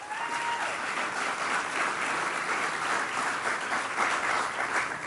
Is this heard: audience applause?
yes